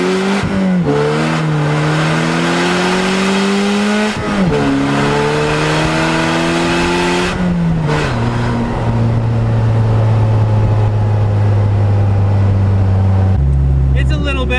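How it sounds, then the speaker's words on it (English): A Polaris Slingshot engine revs hard through rising gear shifts during a launch on worn stock Kenda tires with the rear tire spinning, a loud close roar climbing in pitch before settling into a steady high drone. "I'm gonna try it with a launch this time"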